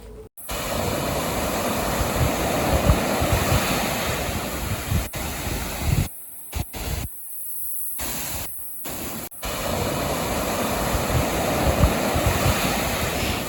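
Surf waves at a beach in Goa roll in with a steady, broad wash, loud and continuous with wind noise on the microphone and a few brief dropouts midway.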